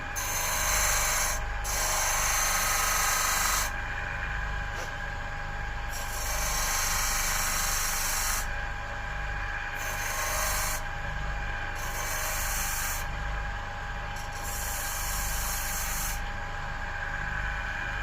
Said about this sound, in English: We want to sand these pieces off round here